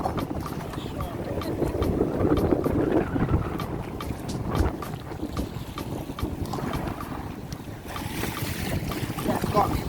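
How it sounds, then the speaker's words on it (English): Kayak out on rough, windy sea water off Barbados, with steady wind buffeting the microphone and sloshing waves and paddle splashes, continuous and close throughout. "Water a bit rough now. Windy."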